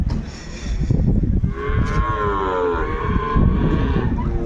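Cattle at the Devakottai cattle market let out a long, loud moo close by, over a busy rumble of crowd noise and livestock.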